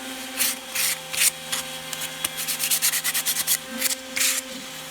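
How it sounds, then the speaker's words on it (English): Sandpaper rubbed by hand over a CNC-carved wooden bump stop, rhythmic close scratchy strokes speeding into quick bursts, with a steady machine hum underneath. "Go ahead and hit this with a little bit of the sandpaper."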